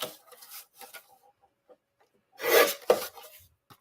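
A paper card being trimmed, with faint scraping at first and then two louder rough cutting strokes near the end, close and otherwise quiet.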